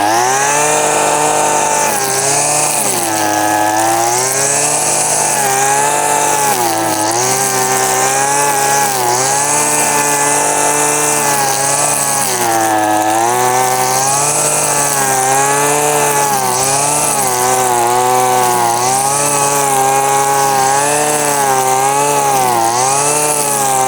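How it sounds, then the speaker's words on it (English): A Neotech 26cc gas-powered 6-in-1 string trimmer runs steadily at high revs, a loud, buzzing two-stroke whine that rises and dips slightly as the throttle shifts, close and continuous with no voices. "let's try the string trimmer on it"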